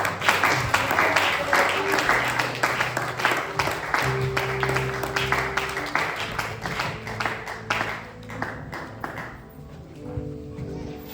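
A church congregation at a French-language thanksgiving and dedication service claps together, steady rhythmic applause with a music-like background, tapering off toward the end.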